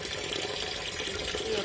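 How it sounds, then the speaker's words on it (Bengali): Running water splashes steadily over fish being washed in a home kitchen, a continuous close hiss and trickle throughout. "মাছগুলো ভালো করে ধুয়ে নিই"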